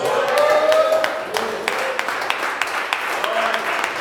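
Church congregation applauding during a sermon, a dense wash of clapping mixed with scattered voices and sung or shouted tones, steady at first and then thinning into lighter, intermittent claps.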